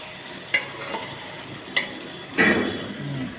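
Half a kilo of tomatoes frying in oil for a restaurant-style chicken salna, heard as a soft sizzle with a few sharp stirring clinks and scrapes, faint and close.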